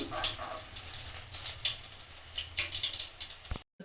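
Bitter gourd fries in hot oil with a steady, dense sizzle and crackle, fairly quiet and continuous, with scattered popping bursts, ending in a brief cutoff.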